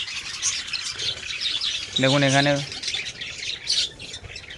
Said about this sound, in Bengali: দেখুন পাখিগুলো পরপর করে কী সুন্দর হাঁড়ির মধ্যে বসে রয়েছে